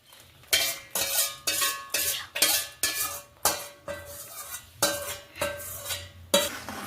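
A spoon scraping and clinking against a pan in steady repeated strokes, about a dozen, as roasted flour for Gujarati adadiya is stirred with sugar syrup mixed in, close and clear with no talk.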